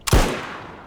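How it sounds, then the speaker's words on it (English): A single sharp Mosin rifle shot in DayZ, loud and close, with a long reverberant tail trailing off. "the Mosin has new sound effects for firing and reloading"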